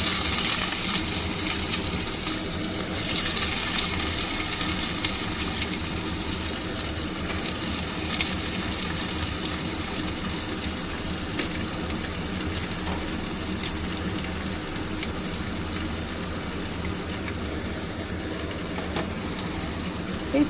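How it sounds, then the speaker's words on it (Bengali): Sliced onion sizzling in hot oil with whole spices in a home kitchen pan, a steady, continuous frying hiss with faint crackles and no talk over it. "এই পেঁয়াজটা আমি একটু লাল হওয়া পর্যন্ত ভাজবো"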